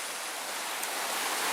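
Lake waves roll onto the shore as a steady, even wash of surf, moderately loud and unbroken, with no voices.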